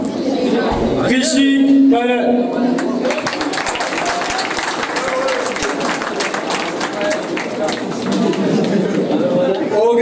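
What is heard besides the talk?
applause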